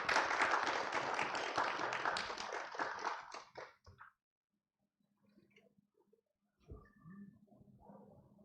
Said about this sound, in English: Ladies and gentlemen, please join me in welcoming them with a round of applause